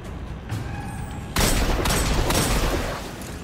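Hand cannon firing in Destiny 2, preceded by quieter game ambience, then a sudden loud burst of booming shots and crackling impacts that sustains and slowly fades.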